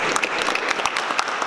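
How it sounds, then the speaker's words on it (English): A panel-discussion audience claps for a panelist in a short, moderately loud burst of scattered individual hand claps from a smallish group, with no talk over it. "I give a round of applause for Brian for showing up today."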